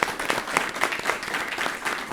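An audience at a commerce career talk bursts into brief, lively clapping, dense and fairly close, to welcome a guest.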